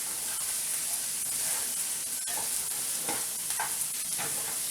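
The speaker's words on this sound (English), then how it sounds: "my onions are sauteing nice and quick" Onions sautéing in hot oil in a pan for beef stuffed cabbage rolls, a steady close sizzle and hiss with occasional stirring scrapes, no talking.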